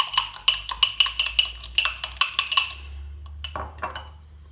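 A utensil beats peanut butter bowlcake batter in a bowl with quick rhythmic clinks and taps, a dozen or so strokes, then stops into near silence with a couple of last knocks.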